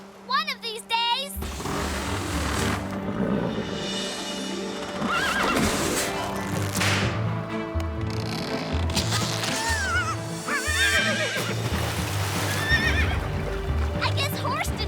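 A horse neighs and whinnies loudly at close range, with hoof clip-clops and a busy cartoon music score running underneath for the whole stretch, with a brief quiet moment at the start.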